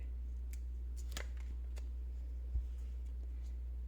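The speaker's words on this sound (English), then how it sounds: "Just cut out each individual circle." Scissors snip out small circular paper jar labels in several quick, close, crisp cuts, with a low steady hum underneath and a soft thump near the end.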